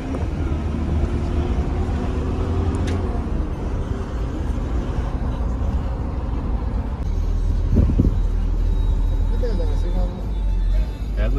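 Steady vehicle rumble from the inside of a car being driven around Ladakh, loud and continuous with a brief clunk near the middle, while someone talks over it throughout.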